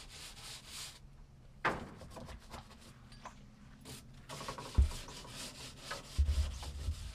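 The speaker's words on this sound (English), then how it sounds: "scrubbing down the floor" A brush scrubs the decking floor of an animal enclosure, a quiet, steady rubbing and scraping with a few sharper knocks near the end.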